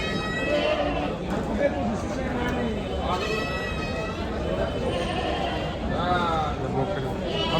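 Goats and sheep bleat at the large Chakan livestock market in Maharashtra. Several wavering calls rise over constant crowd chatter and people talking nearby.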